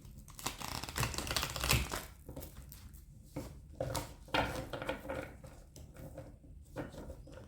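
Oracle cards being shuffled by hand, a close series of quick riffling and flicking taps with short pauses between rounds, no talking.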